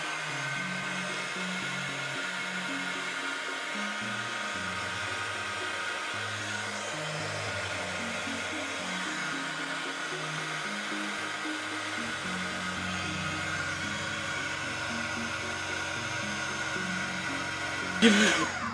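A hair dryer blowing steadily to dry paint on a small craft card, a continuous close whir whose pitch wavers slightly as it moves, ending with a brief clatter.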